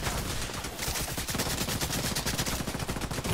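Rapid gunfire in the video game The Division 2, a continuous stream of fast, even shots pounding through the whole stretch with no pauses and no talk.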